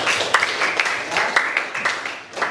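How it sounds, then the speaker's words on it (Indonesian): Classroom applause for a student named Tata during a history lesson, a short burst of group clapping with irregular claps close by. "tepuk tangan untuk Tata"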